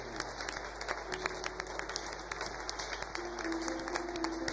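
Church congregation applauding in acclaim of the Lord during a French-language service, a steady, moderately distant wash of clapping with faint sustained tones behind it.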